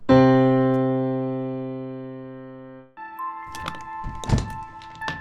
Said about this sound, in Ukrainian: А ось як звучить октава